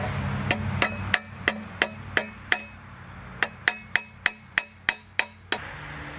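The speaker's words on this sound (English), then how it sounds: "We'll get a hammer, flatten that out just a hair." Hammer flattening metal during a fuel-injection install on a 1968 Buick Electra 225: about fifteen sharp, ringing metallic blows in a steady rhythm, close and loud, with a low hum beneath and no talking.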